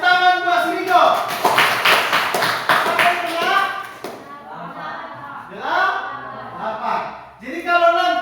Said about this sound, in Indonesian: Ya, tepuk tangan buat si Niko.